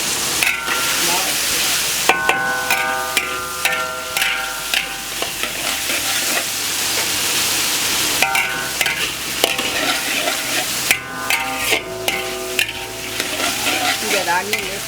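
Onion and chili padi cooking in a pan, a loud continuous sizzle broken by repeated bursts of stirring and clinking of a utensil against the pan, close by and with no voices.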